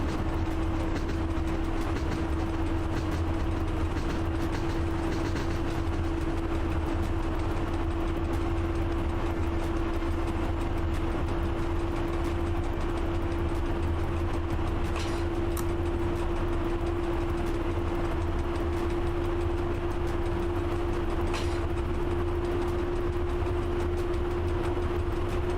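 Steady rumble of a locomotive pulling away in the Train Driver 2 simulator game, a constant engine drone with a sustained tone holding level throughout, faint clicks now and then, no voices.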